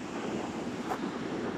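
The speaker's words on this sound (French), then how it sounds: "la rivière Péribonka qui se déchaîne au printemps" Roaring rush of the Péribonka river in spring flood, a dense continuous wash of churning water heard with wind buffeting the microphone, steady and unbroken.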